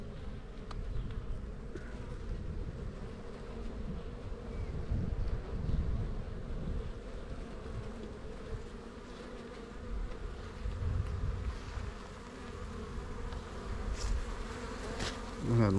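Honeybees buzzing at a beehive during a spring inspection, a dense steady drone close to the microphone, with light wind noise.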